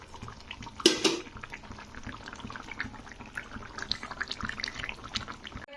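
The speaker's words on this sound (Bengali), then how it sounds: "তো বড়িগুলো দিয়ে একটু ফুটিয়ে নিতে হবে।" Neem leaf broth with bori boils in a pot, a faint, busy bubbling and gurgling with a sharp clatter near the start and no talk.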